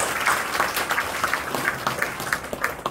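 Audience applause fills a church mission award ceremony in a large second-floor auditorium, a steady dense clapping from a crowd sustained for the full few seconds without talk.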